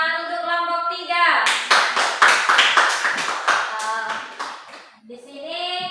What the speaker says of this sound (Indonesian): Oke, beri tepuk tangan untuk kelompok 3.